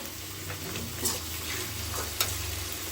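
Green chillies and boiled avarekalu beans with salt fry together in a pan, giving a continuous close sizzle broken by a few light ticks and scrapes of stirring.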